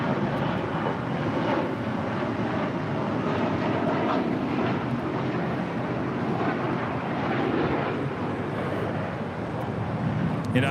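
A heavy United airliner taking off from runway 25 right at LAX, a loud, steady broadband engine roar lasting throughout with some wind buffeting and no audible talk.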